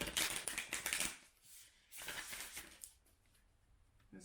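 Tarot cards being shuffled make quick, crisp riffling bursts in two short quiet runs separated by a brief pause, faint and close with no speech.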